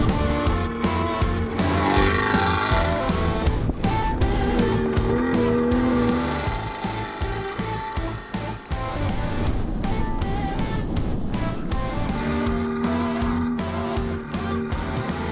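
A car towing a sled over snow, a loud continuous engine drone with scraping, skidding sliding noise close by throughout, easing briefly in the middle, with no talk.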